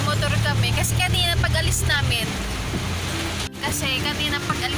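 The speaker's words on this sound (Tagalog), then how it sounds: "Pero napakalakas ng ulan" Heavy rain pours steadily, a dense wash of noise heard from inside a car, with a vehicle's low engine rumble underneath and a brief dip near the end.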